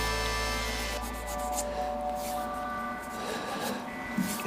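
A multi-coloured resin shaving brush blank spins on a lathe under sandpaper, giving a steady, soft rubbing hiss with a faint motor hum beneath and no talk.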